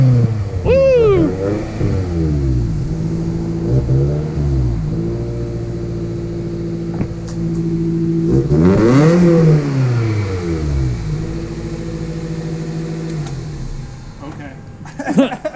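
A Toyota Celica engine idles with a deep rumble, and the revs rise and fall in several blips, heard up close alongside people talking.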